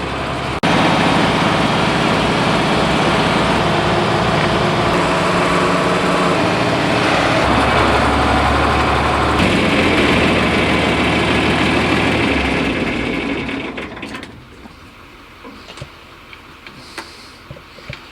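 A loud, steady tractor engine rumbles at close range, heard from inside the cab, with a ticking rhythm, shifting pitch slightly, then fades down to quiet with faint knocks.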